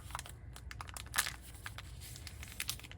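Recycled packaging paper being folded in half for a flip-flop journal gives soft, close crinkles and light rustling, with a few sharper crisp crackles scattered through a quiet stretch.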